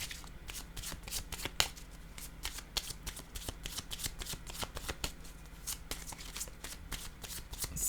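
Pink oracle cards shuffled by hand in a steady run of crisp riffling slaps and flutters, fairly close and alone with no talk.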